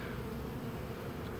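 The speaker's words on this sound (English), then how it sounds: "Bees are bringing in pollen and nectar" Honeybees at a hive entrance bringing in pollen and nectar, a continuous soft buzzing drone of many insects, even and faint, with no voices.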